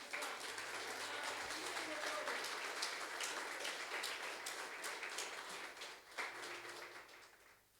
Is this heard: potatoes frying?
no